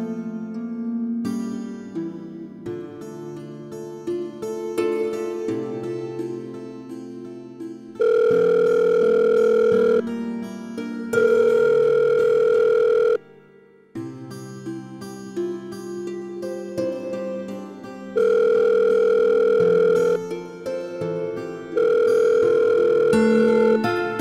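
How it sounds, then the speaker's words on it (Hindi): A phone ringback tone repeats in long steady bursts with gaps while a call is placed, set against soft background music from a Pakistani TV drama; no one answers and no voices are heard. "फ़ोन करती हूँ उसे।"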